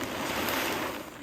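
A sack of corn pours into a deer feeder outdoors, making a brief rushing, rattling hiss of kernels that is close and steady before tapering off.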